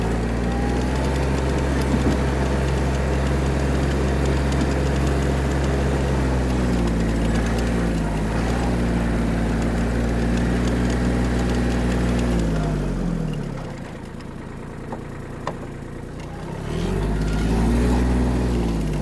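Kubota A-195 Japanese mini tractor engine running while driving, a loud steady diesel drone that dips briefly in pitch and level as it changes gear, then picks back up.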